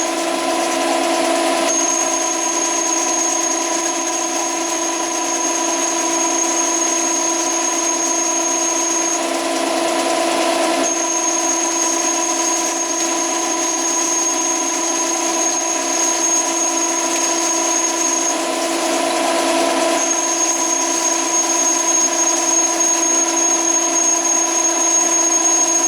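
A machine cutting a cone for an injection molding machine, a steady, loud mechanical whine with a sustained high tone that cuts off briefly and resumes in regular cycles, alone without talk.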